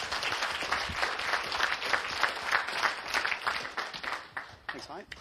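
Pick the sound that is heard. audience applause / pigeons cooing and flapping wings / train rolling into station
audience applause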